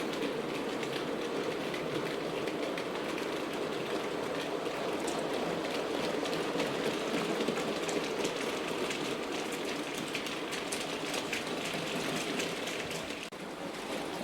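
A Hornby R3548 model locomotive creeps slowly through a points crossover on a layout, giving a steady, close whirring and rolling rumble with faint clicks throughout and no voices.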